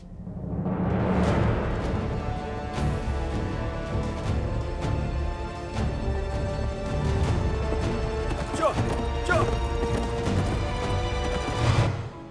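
Horse hooves clip-clopping in a Korean historical drama, a loud, steady run of hoofbeats lasting over ten seconds with occasional heavier knocks and clatter mixed in.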